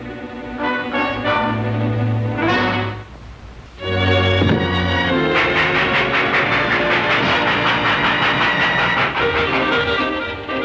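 A train running, with rhythmic clattering bursts and a hissing rumble that cut out briefly, then return as a dense, loud continuous rolling roar with layered tonal whines.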